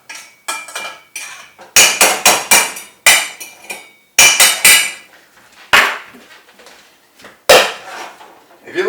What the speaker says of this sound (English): you're stirring it around, you'll notice that there is rice stuck to the bottom